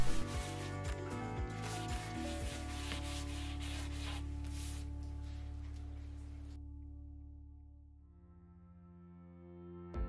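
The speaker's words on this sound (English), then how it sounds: "just hand sand it really quick just to smooth it out before I paint" Hand sanding of a cabinet with fine 220 or 320 grit sandpaper gives close, rhythmic rubbing strokes for several seconds, then stops, leaving a quieter steady background.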